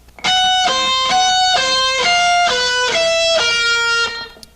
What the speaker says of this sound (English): high notes using a sharp 5th, which should sound like this.